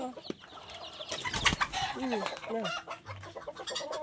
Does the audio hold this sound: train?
no